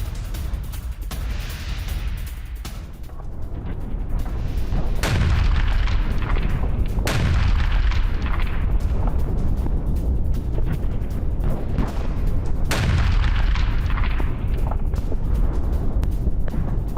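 Explosions from a Russian Iskander missile strike on a Ukrainian base in Poltava, several loud booming blasts rolling over a continuous rumbling roar, with no voices.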